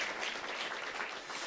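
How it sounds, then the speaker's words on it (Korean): A church congregation claps in welcome, a faint, steady wash of applause from many hands with no speech over it. "포항에서 오시는 분들 아주 기쁨의 박수를 같이 쳐드리고"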